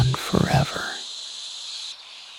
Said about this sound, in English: A cricket's gentle chirping, a faint rustling in the underbrush